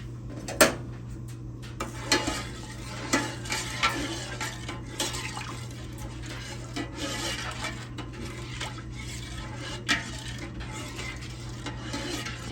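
Metal spoon stirring redbud jelly with lemon juice in a pot on the stove, a quiet continuous scraping and rubbing with light clinks against the pan, steady over a low hum with no talk.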